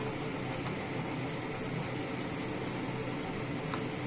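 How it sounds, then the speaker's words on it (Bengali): Peanuts frying in a pan for a spiced flattened-rice and peanut snack give off a steady, dense hiss, continuous and fairly loud with no pauses and no voices. "বাদামটা কিন্তু ভাজতে একটু সময় লাগবে, কিছু দিয়ে একটু নাড়তে হবে যাতে নিচটা উপরটা সবই সুন্দরভাবে হয়"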